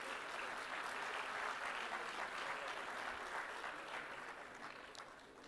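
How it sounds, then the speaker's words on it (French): Applause from the audience at the closing ceremony of a Dakar summit as the panel finishes, dense sustained clapping from a large crowd that gradually tapers off. "Et applaudissements, s'il vous plaît."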